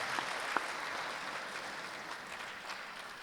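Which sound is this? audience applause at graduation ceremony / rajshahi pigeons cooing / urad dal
audience applause at graduation ceremony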